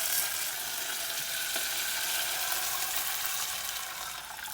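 A steady rush of water pours into a pot for Korean seaweed soup (miyeok guk), continuous and fairly quiet throughout.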